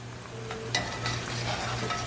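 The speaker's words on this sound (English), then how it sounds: "Okay, back to frying." Vegetarian banh mi filling fries steadily in a pan, a close, continuous sizzle with a brief sharper crackle partway through and no talking.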